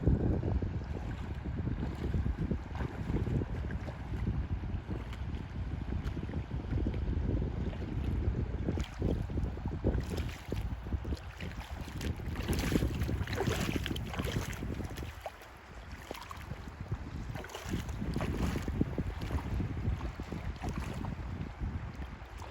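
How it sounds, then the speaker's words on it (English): Wind gusting steadily at a campsite in Garner State Park, with broad rumbling buffeting that rises and falls, close and fairly loud, with no voices. "It's a little windy. It's picked up a little bit,"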